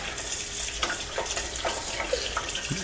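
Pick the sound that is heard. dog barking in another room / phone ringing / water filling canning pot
water filling canning pot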